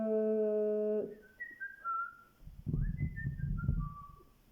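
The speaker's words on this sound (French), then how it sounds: "Pourquoi je me mets à siffler?" A person whistles a melodic tune alone, starting with a long steady held note, then a series of gliding, falling phrases over a low rumble of background noise, moderately close.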